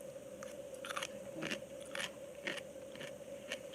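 Crisp bites into raw daikon radish during a Japanese Buddhist shojin ryori meal, with about eight sharp crunching bursts spaced roughly half a second apart over a steady low hum.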